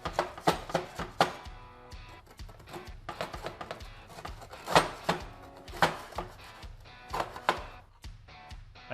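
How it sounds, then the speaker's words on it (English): A bench scraper works around the edge of a pan to free baked pizza cheese, producing a series of irregular sharp metallic scrapes and taps close by, clustered in quick bursts with short pauses. "use a bench scraper or a knife, whatever you have at home, and release the cheese from the side of the pan so it slides out easy"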